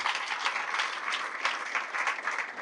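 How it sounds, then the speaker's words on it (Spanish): A church congregation applauds continuously, a dense wash of many hands clapping at once, steady and moderately distant, with no voices standing out. "Fuertes aplausos a la palabra de nuestro Dios"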